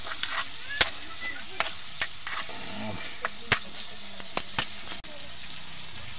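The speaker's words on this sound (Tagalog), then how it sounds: "Ginigisa ko na." Ingredients sauté in a pan with a steady sizzle broken by sharp scrapes and clinks of stirring, in a provincial home kitchen where fried fish and moringa pods are being cooked, with talking and farm animals faintly in the background.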